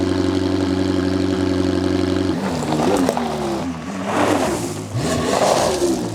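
A convertible's engine idles with a steady hum, then revs and pulls away, its pitch climbing and dipping through several surges of acceleration, close and loud with no talk.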